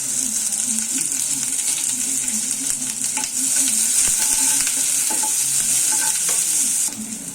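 Chopped onion frying and being stirred in a pan for a jackfruit-seed mash, with a steady loud sizzle throughout, light scraping stirs and a few small clinks, continuous and alone without talk.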